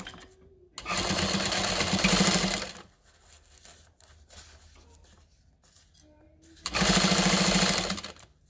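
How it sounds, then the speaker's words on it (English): Sewing machine stitching a seam on a canvas tote bag, two bursts of steady motor hum about two seconds each, separated by a quieter pause with faint handling sounds. "you're only supposed to be sewing from that other stitch line"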